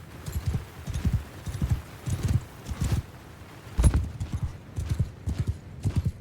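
Horse hooves clip-clop in a steady walking rhythm in the video game Mount & Blade II Bannerlord, close and prominent throughout, with a brief whinny-like accent midway and a voice speaking over it.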